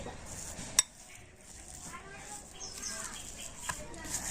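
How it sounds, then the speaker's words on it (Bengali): Spices for a pea kachori filling being mixed in a bowl, giving soft scraping and stirring with a couple of sharp clinks of a spoon against the bowl, faint and close. "এবার আমি সমস্ত কিছু খুব ভালো করে মিশিয়ে নিচ্ছি"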